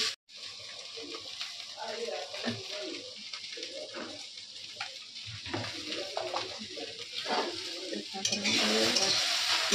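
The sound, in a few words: food frying in a pan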